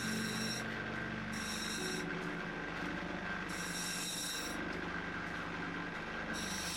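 Rough crystal opal pressed against a spinning polishing wheel, giving a steady close grinding rasp over a constant motor whine, with a brighter hiss in several short bursts as the stone touches the wheel.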